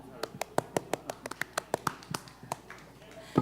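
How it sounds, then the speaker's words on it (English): A small audience at a Berlin meetup claps for the sound engineer in a sparse, uneven burst of individual hand claps, a dozen or so distinct slaps spaced out over a few seconds, fairly close and thinning toward the end. "Put your hands together."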